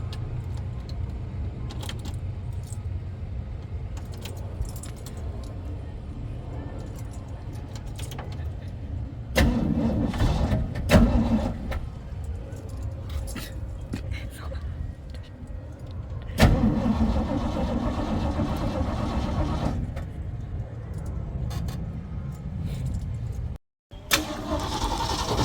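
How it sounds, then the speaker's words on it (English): A manual truck engine being started, with a rumbling idle underneath, a couple of louder surges as the starter cranks and the engine catches, and a steady mid-pitched running drone close by, with a few light clicks and rattles. "I'm going to attempt to start off the truck and see what happens"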